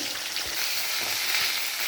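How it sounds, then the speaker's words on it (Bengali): Fish frying in a pan of oil gives a steady, dense sizzle and crackle that holds evenly for the full two seconds, close and fairly loud, with no voices. "মাছগুলো আমি ভেজে নেবো মাছগুলো সব ভেজে নিয়ে রান্না চাপাবো মাছগুলো ভাজা হতে থাক"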